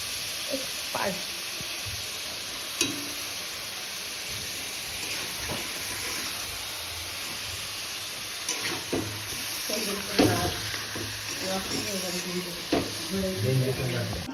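Onions fry with salt in a home pan, a soft continuous sizzle with occasional scraping stirs and clinks of a utensil, fairly quiet, with brief background voices.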